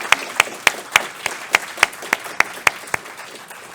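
Applause at an evening lecture event thanking a supporter, heard as a steady run of sharp, evenly spaced claps at moderate loudness with little crowd noise behind them.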